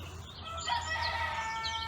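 A rooster crows once in a drawn-out call, fairly close and clear over a steady low hum, around a home in Kerala.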